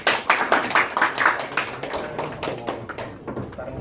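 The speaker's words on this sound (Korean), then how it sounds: "자, 박수 쳐주시기 바랍니다." A crowd claps steadily for a few seconds, many hands making dense, bright applause that stays fairly loud throughout.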